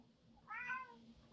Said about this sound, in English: So there's a cat.